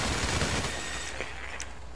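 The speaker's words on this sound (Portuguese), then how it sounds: "Joga aí, Mike, dá um tiro aí." Gunfire in a multiplayer shooter video game, a rapid burst of several shots at the start, then fainter scattered reports and ambient noise.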